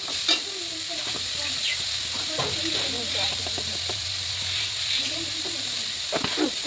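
Dried fish chutney frying in a hot wok while a spatula stirs it, giving a steady close sizzle broken by repeated scraping and clacking strokes, with no talk.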